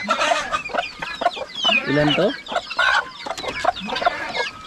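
Chickens cluck repeatedly near a brood of guinea fowl chicks raised by a hen, with a brief rooster-like call midway, while a person speaks briefly.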